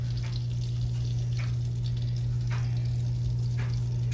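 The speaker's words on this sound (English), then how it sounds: "I have 3 tablespoons of butter melting. We're starting to get foamy, and you can hear it." Three tablespoons of butter sizzle, foam and crackle steadily in a hot pan, with soft popping bursts over a constant low hum and no talking.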